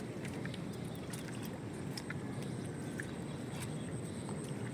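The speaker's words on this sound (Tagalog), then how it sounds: "Lakas pa naman ang ulan." Heavy rain pouring down steadily while floodwater rises nearby, a dense, continuous hiss and roar with scattered sharper drops and splashes throughout, loud and close, no voices.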